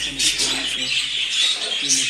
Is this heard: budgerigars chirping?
yes